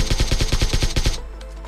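A submachine gun in PUBG Mobile fires a fast, loud burst of about ten evenly spaced shots that lasts just over a second, then stops abruptly.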